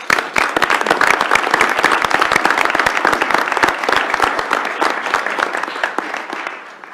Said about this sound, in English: let's give Rob Kramer and Alex Rowe another round of applause